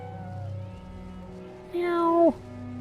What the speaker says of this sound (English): Aside from a little kitten.